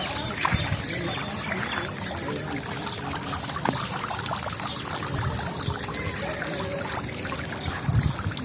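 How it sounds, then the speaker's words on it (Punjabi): Water from a fountain in the royal bathhouse at Lahore Fort, trickling and splashing steadily and close by, under a busy ambient hum. "ਲਓ ਜੀ ਫੁਵਾਰੇ ਲੱਗੇ ਨੇ ਫੁਵਾਰੇ ਤੇ ਜਨਾਬ ਇੱਥੇ ਗਰਮੀ ਬੜੀ ਹੈ"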